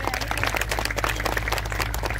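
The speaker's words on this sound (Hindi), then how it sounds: "तालियां इन बच्चों के लिए।" An audience claps for children at an International Day of Persons with Disabilities event, a dense, steady patter of many hands at moderate loudness with faint crowd murmur underneath.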